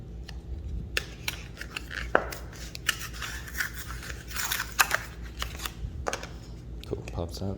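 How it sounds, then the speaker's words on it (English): Scissors cut along the dotted line of a Samsung USB flash drive's packaging in a series of sharp snips and crinkles, close and fairly quiet, with a person talking over them. "I'm just going to take some scissors here, cut along the dotted line as it says."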